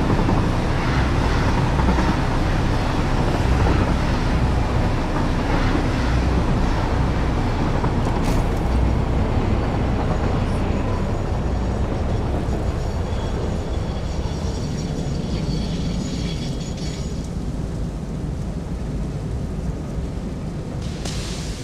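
A train in the video game Satisfactory rumbles past in a loud, continuous, dense roar that holds steady for over twenty seconds and eases only slightly near the end, with no talk.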